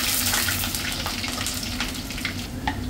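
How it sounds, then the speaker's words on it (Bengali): Onions fry in hot oil with cumin seeds and a bay leaf for hilsa pulao, a loud, steady crackling sizzle that stays close and continuous. "ভাজা ভাজা করে দেবো।"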